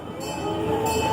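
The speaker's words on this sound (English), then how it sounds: "we're on a train to Ponyville." An amusement park train ride at Morgan's Wonderland, a steady close rumble of the rolling train with a faint ringing tone near the end.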